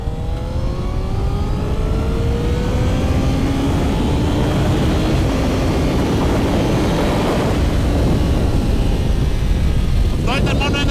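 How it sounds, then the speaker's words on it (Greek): A 20-year-old motorcycle engine revs hard from near the start, its whine climbing steadily in pitch over a loud, continuous roar close by, holding high before a sharper rasp near the end. "Για να δούμε τι μπορεί να κάνει ένα 20 χρονών μηχανάκι."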